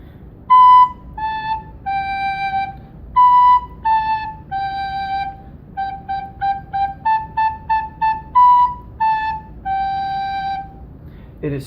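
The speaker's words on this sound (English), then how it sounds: "When you blow gently, you can make your recorder sound like this." A recorder blown gently plays a steady, pure, mellow tune of short and sustained notes in a simple rhythm, clear and close with no voices.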